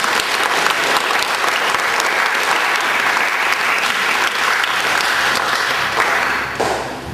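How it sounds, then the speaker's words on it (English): Sustained applause from a wedding crowd for a newlywed couple, dense steady clapping filling the room for several seconds before tapering off near the end. "Let's give them a round of applause."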